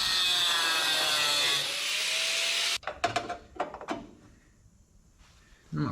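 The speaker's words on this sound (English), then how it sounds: "I'm actually gonna cut that tack now" A power cutting tool grinds through a tack weld on a steel patch panel of a 1976 GMC truck, a loud steady high whine for nearly three seconds, then cuts off into scattered metallic clanks and knocks.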